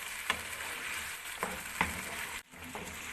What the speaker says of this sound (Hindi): इसे अच्छे से मिला लेंगे। इसे मज़ीद 2 मिनट कुक करेंगे।